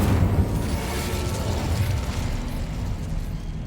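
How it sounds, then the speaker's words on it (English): A fire spell, Incendio, is cast in Hogwarts Legacy, giving a dense, roaring burst of crackling flame and mechanical clatter that keeps up without a break. "Incendio."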